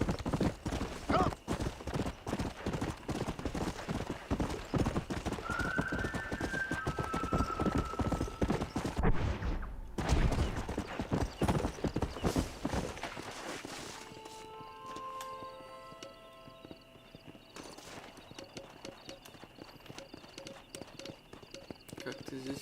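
Rapid horse hoofbeats clip-clop steadily for several seconds in the video game Red Dead Redemption 2, then fade out, leaving quieter ambience with faint tonal sounds.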